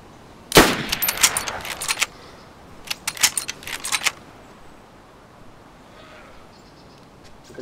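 Gunfire in the survival game DayZ, two quick bursts of sharp, loud shots spaced a second apart, each a rapid cluster of cracks, then fading to quiet background ambience.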